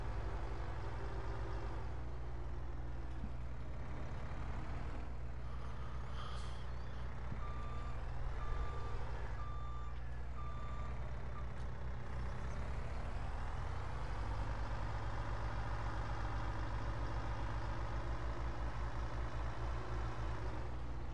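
Truck reversing beeps repeat at a steady interval in Farming Simulator 22, layered over a constant low engine drone that fills the whole stretch with no talking.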